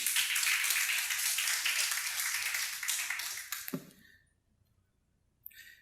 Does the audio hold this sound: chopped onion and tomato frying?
no